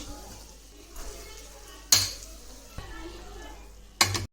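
Chicken liver rice is stirred in a pot: soft scraping is punctuated by two sharp clanks of a spoon against the rim, with a low voice faintly in the background.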